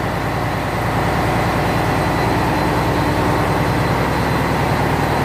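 A water pump runs in a ship's engine room, tied to the sea water cooling system, a loud, steady, dense mechanical drone with no breaks.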